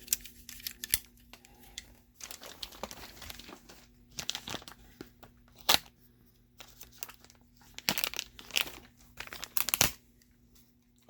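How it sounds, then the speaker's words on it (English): Handheld snips cut through thin aluminum sheet, giving a quiet, irregular series of crisp clicks and crinkling metal sounds with pauses between cuts, close by and without talking. "I think we will need the snips for, because there's metal, but it's just aluminum, so it does cut"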